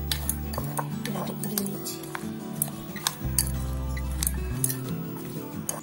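A metal spoon scrapes and clinks against a bowl while stirring alu kabli, a sour and salty snack of boiled potatoes, with repeated close clatter over a steady low hum.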